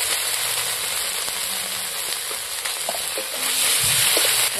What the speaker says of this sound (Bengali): এখন আমি এই মশলাগুলো প্রথমে কষি নিয়ে ভাজা আলুতে দেব।